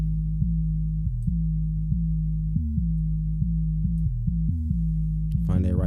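Deep sustained 808 bass tone programmed in FL Studio, played as a run of gliding, stepping notes that slide between pitches in a steady rhythm, loud and alone, with a brief burst of other sound at the very end.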